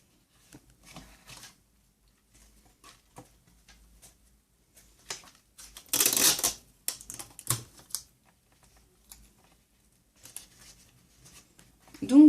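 Sticky tape pulled from a roll and pressed down to hold cut thread while making a small notepad, one loud tearing rip in the middle, surrounded by faint taps and clicks in a quiet room.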